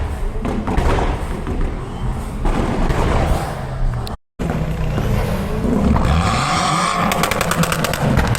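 Car exhaust popping and banging at a big London car meet, loud repeated sharp cracks and thuds over rumbling engines, with one short dropout midway and a rapid burst of pops near the end.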